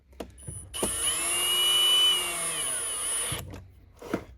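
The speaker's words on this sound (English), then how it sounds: "if you're using a drill to cinch these screws back down" A power drill drives screws into a Eureka Airspeed vacuum, whirring steadily for about two and a half seconds, with short bursts and clicks before and after, close by and fairly loud.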